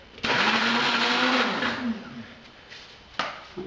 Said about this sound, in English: Just a quick hit in the blender,